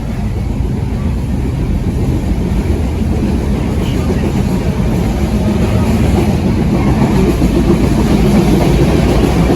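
Inside a long-distance passenger train in Bangladesh heading from Dhaka toward Panchagarh, a steady low rumble and rattle of the moving carriages fills the space, loud and continuous throughout.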